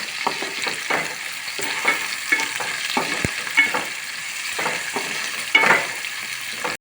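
Capsicum rice with coriander frying in a pan makes a continuous close sizzle, with repeated stirring scrapes of a spoon throughout.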